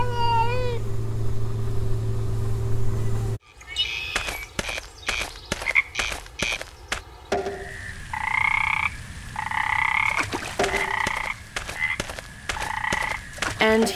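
Frogs croak in the Memoranda video game, a run of quick, sharp, clicking croaks followed by a chorus of loud, repeated, nasal calls, mixed with a steady game soundtrack and no talking.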